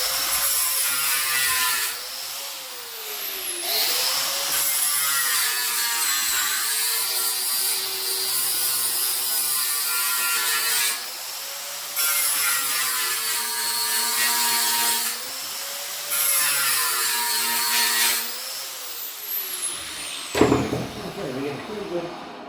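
An angle grinder fitted with a flap disc scours the metal of a Model A frame during an old-school hot rod repair, a loud, steady whine that rises and dips as pressure changes, running for most of the stretch.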